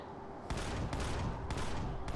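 Cover fire from a weapon in Empyrion Galactic Survival comes as short, repeated automatic bursts about every half second, fairly close, with no talking in between.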